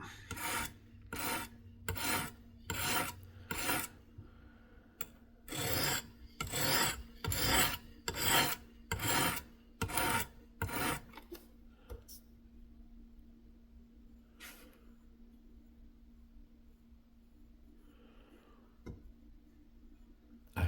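A knife is drawn across the abrasive of a Work Sharp Professional Precision Adjust sharpener in about a dozen even, rhythmic rasping strokes, close and crisp, followed by near silence with only a few faint handling touches.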